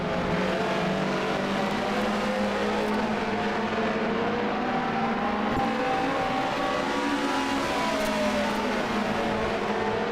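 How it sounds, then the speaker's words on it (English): Several BTCC touring car engines race at Silverstone International in the Automobilista sim, a dense, continuous roar of revving and shifting motors with pitch sweeps as cars accelerate, steady and loud for the whole stretch. "Good chance to hear the engines there"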